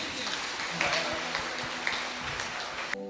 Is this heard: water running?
no